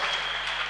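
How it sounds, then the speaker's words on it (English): A church congregation claps together in a dense, even burst, short and close with no voices over it. "Clap for Dr. Jesus,"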